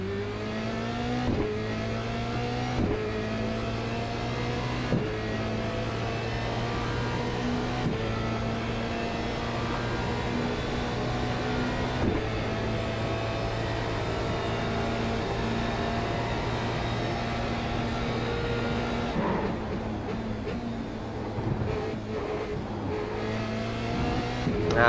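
Formula Renault 2.0 race car in the iRacing simulator at the Montreal Gilles Villeneuve circuit, a loud continuous engine note climbing through the revs with repeated sharp downshifts and upshifts over a steady lap.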